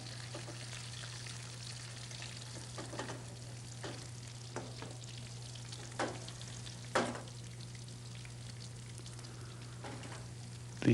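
Peas and mushrooms frying in a pan, a steady low sizzle with occasional scraping stirs and light clinks, close and alone over a constant background hum.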